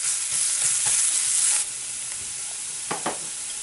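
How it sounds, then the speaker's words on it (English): Chopped ginger sizzles in a hot pan, a loud bright hiss broken by a few stirring scrapes, then settles to a quieter steady frying sizzle with occasional clinks. "Add chopped ginger, fry it about a minute,"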